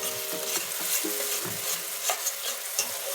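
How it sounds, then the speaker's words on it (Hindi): Tomato, ginger and garlic masala paste fries in a pan with a constant sizzle while a spoon stirs and scrapes it in repeated close strokes. "देखिए कितना अच्छा मसाला भुज रहा है"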